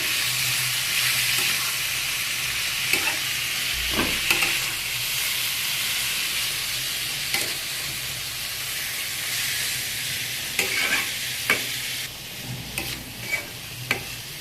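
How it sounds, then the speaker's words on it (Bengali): Snake gourd being stirred and fried in a pan with turmeric, a steady close sizzle with scraping strokes of a spoon against the pan throughout, louder clinks near the end. "চিচিঙ্গাটাকে একটু এরকম নেড়ে চেড়ে ভালো করে মিশিয়ে দিয়েছি।"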